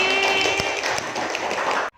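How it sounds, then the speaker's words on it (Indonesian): Classroom applause for a pupil, a dense wash of many small hands clapping steadily at close range, cutting off abruptly at the end. "Tepuk tangan untuk Reddy."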